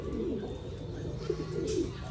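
American giant runt pigeons coo at a farm, several soft, low, throaty calls rising and falling close by over a steady background hum, with a couple of brief chirps mixed in.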